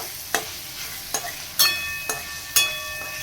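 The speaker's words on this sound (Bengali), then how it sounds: "এরপরে টমেটো কুচিগুলো দিয়ে দেবো, দিয়ে আবার মিক্স করব।" Chopped tomatoes fry and get stirred in a pan for an egg curry: five sharp metallic clanks of the utensil against the pan ring out over a soft, continuous sizzle, close and clear.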